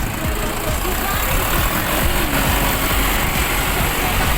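An Orion RF 404 mini tractor engine runs continuously at a steady idle, loud and close, with a broad noisy rumble throughout.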